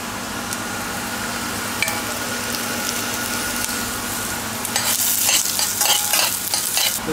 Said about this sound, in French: Je vais suer les oignons. Et là, je vais ajouter des légumes.